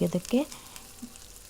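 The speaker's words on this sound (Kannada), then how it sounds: "ಆಮ್ಲೆಟ್ ಥರನೇ ಎಗ್ಗನ್ನು ಹಾಕಬೇಕೀಗ." Beaten egg sizzles faintly on a hot pan as it is poured out like an omelette for cheese bread, following a short burst of voice-like sound at the start.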